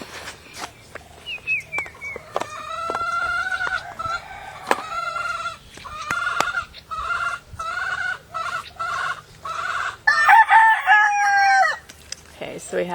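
A live chicken clucks and a rooster crows in a close, loud series of calls, with repeated clucks and a couple of longer crowing bursts, heard alone.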